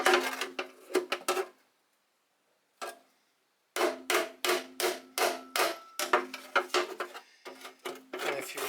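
Rapid sharp hammer blows on a carburetor manifold part clamped in a vise, delivered in quick bursts with a brief pause between, loud and close with no talk.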